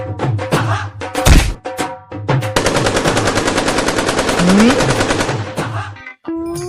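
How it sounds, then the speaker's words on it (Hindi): A rapid, loud burst of automatic gunfire is fired into the air, sustained for several seconds and following a few scattered sharp shots and thuds. "यहाँ खाने पीने तक के लाले पड़े और तू हवा में फायरिंग कर रही है"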